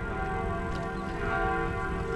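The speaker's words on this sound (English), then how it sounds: "Can you hear the church bells?" Church bells ring steadily in Zwolle in the Netherlands, a continuous layered tolling of sustained tones heard from some distance on a city street, with no speech.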